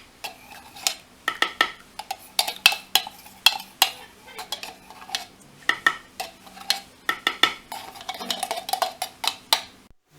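A utensil stirs a mango jelly mixture in a pot with quick, rhythmic scraping and clinking bursts. The bursts repeat steadily, loud and close, with no talking.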